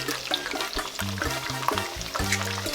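Starch-coated pork ribs deep-fry in hot oil with a steady, dense sizzle and occasional clinks, while a tonal background sound runs underneath.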